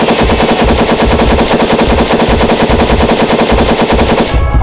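A gun in the Capuchin horror-mode video game fires as rapid, loud automatic bursts in a steady, unbroken rattle for about four seconds, then stops abruptly.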